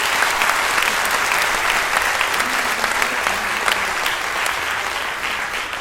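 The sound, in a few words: audience applause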